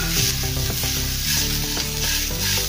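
Ginger-garlic paste sizzles loudly in a hot pan for a yogurt-onion curry while a spoon stirs it. The frying hiss is continuous, with scraping stir strokes over background music.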